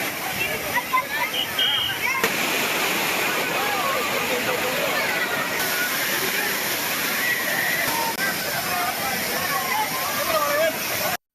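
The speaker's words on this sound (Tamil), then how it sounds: "திற்பரப்பு அருவியில் குவிந்த சுற்றுலா பயணிகள் மிதமாக கொட்டும் நீரில் ஆனந்த குளியல் போட்டனர்" Thirparappu waterfall in Kanyakumari pours down steadily where tourists bathe, a dense, continuous roar of falling water at close range with faint sloshing mixed in.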